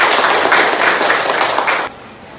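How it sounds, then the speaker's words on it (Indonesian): Classroom audience applause during a university teaching session, a loud dense burst of clapping that holds steady for about two seconds and then cuts off abruptly. "Tepuk tangan dulu untuk teman-teman."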